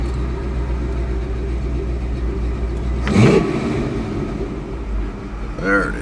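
A car engine idles high and steady, a continuous low hum close by, with a brief louder burst of noise near the middle and a short whine toward the end.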